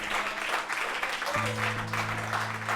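A church congregation claps together during a Spanish-language worship service, a dense steady applause that fills the room, with sustained keyboard or organ tones entering partway through.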